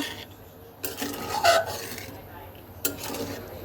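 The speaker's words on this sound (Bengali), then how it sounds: "সব কিছু একসাথে সুন্দর করে মিক্সড করে দিলাম" Curry ingredients with broth water are stirred together in a cooking pot, giving intermittent scraping and rubbing strokes with a few clinks of a utensil against the pot, fairly faint and without talk.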